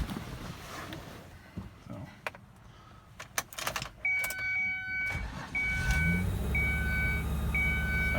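A Ford Escape with a failing catalytic converter and no power: keys jangle and clicks sound in a quiet cabin, then the engine cranks and catches about six seconds in, settling into a loud, steady idle, with a chime beeping repeatedly.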